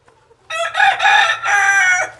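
A rooster crows loudly and close by in a shared chicken enclosure, one long drawn-out call in several segments, with faint low clucking from hens underneath.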